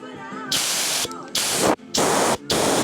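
A repaired air blow gun fires several bursts of loud, broadband rushing air, each lasting about half a second with short gaps between them, close to the listener.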